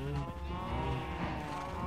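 A cow moos in Minecraft, one drawn-out lowing call of under two seconds, close and clear with no speech over it.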